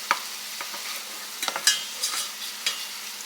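Garlic sautés in butter with a soft, steady sizzle, broken by a string of light scrapes and taps as it is stirred around the pan. The sound is close and moderate in level.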